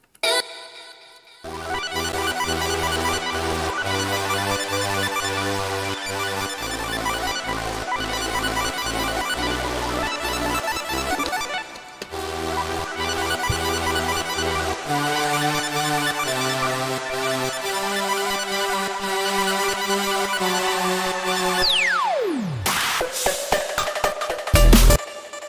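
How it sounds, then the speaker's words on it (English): Two synth pads from an M8 tracker play together in shifting sustained chords for about twenty-five seconds, steady and full, ending in a downward pitch sweep and a few choppy bursts, with no voices. "let me play the two pads together so you can hear them"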